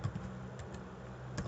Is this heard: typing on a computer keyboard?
yes